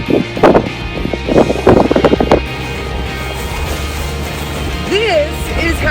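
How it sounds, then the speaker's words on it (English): Strong wind buffets the microphone near the west rim of the Grand Canyon, a steady broadband roar with louder gusts, partly under people talking early on and some faint tonal squeaks toward the end. "This is how windy it is here."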